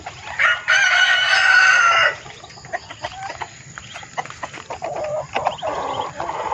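Chickens and chicks in a fenced pen: a loud rooster crow opens, followed by steady clucking and chirping from the flock, near and continuous with no talk.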